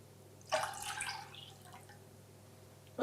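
Water splashing and trickling into a pot with white wine vinegar for pickled red onion for about a second, fading into a faint background hum.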